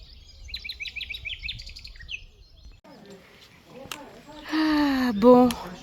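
Small birds chirp in quiet countryside along the Camino de Santiago, a quick run of high tweets early on, then rustling, a brief voice and louder tonal calls near the end.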